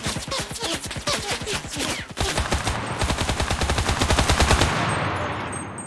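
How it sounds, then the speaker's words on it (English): Rapid automatic gunfire from an opposing player in the battle royale game Cuisine Royale, a dense run of loud, evenly spaced shots that rattles for several seconds before easing into a softer tail. "Is there actually another guy shooting at me?"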